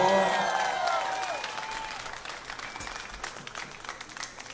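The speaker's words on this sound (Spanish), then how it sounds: "Un aplauso, por favor." A concert audience claps steadily and cheers at a live band show, starting strong and then thinning out, with a ringing musical tone fading underneath.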